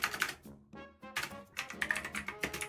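Rapid clacking keystrokes on a computer keyboard, close and crisp, in two quick bursts split by a brief pause.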